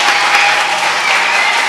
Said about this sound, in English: So let us give her a round of applause again.